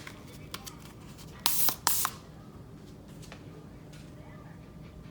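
A perfume bottle gives two short, close spray bursts, one after the other, over a quiet room background.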